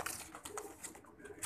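Soft pigeon cooing at close range, several low murmuring calls repeating through a short stretch of faint background noise.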